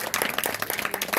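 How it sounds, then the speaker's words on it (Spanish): A short burst of applause for the authors at a gothic book picnic, many hands clapping close by in a dense, uneven patter. "un aplauso para nuestros autores"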